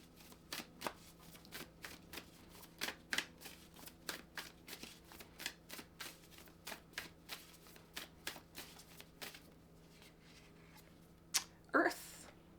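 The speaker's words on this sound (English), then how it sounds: "I feel like pulling one more oracle card here." A deck of oracle cards is shuffled by hand close up, with soft, rhythmic riffling and slapping repeated steadily, ending in a couple of louder handling sounds as a card is drawn.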